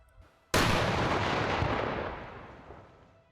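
A single loud explosion booms suddenly, then its roar slowly rumbles and fades over a few seconds.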